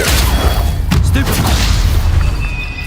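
A Stupefy spell effect in the Hogwarts Legacy video game, a loud booming magical blast with a crackling impact and rumbling low end over battle noise; a voice shouts briefly.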